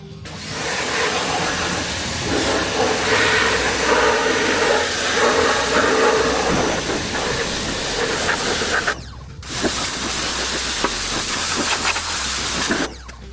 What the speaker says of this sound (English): Now we about to put this pressure washer on that ass.